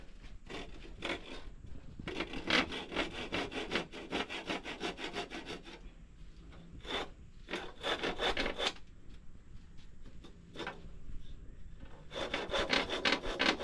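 A hand saw cutting concrete in steady back-and-forth strokes, rasping bursts that pause briefly and then resume, close by with no talking.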